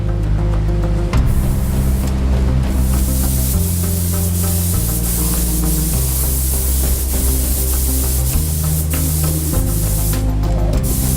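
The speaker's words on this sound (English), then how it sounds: "this technician is spraying an epoxy paint to some of the smallest pieces" Steady, loud hiss of spray painting runs continuously, with a low mechanical hum and harmonic drone beneath it and occasional brief clicks.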